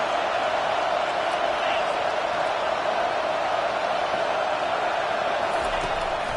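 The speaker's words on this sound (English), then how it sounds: "Decibels rising as the crowd gets behind this defense on 3rd down" Loud, steady crowd roar from a stadium in the College Football 25 video game, building on third down as fans back the defense, with a broadcast voice talking over the noise.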